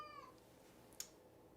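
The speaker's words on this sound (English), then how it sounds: "if you hear two distinct voices meowing and singing the songs of their people in the background" Two house cats meow and sing in the background, a drawn-out wavering cry at the start, then quiet, then a brief sharp cry, all fairly faint with no talking.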